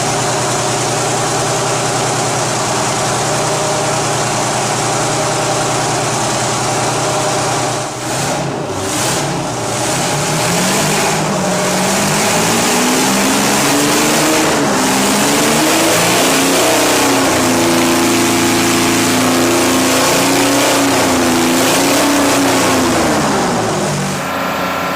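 A Detroit Diesel engine runs loud and close, holding a steady idle before it is revved several times, the pitch rising and falling in long swells with no talk over it.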